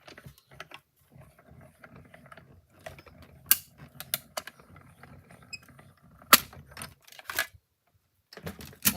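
A die-cutting machine cuts out a paper die for a handmade swing fun-fold card, with quiet mechanical clicks, ratcheting and sharp snaps scattered across the span.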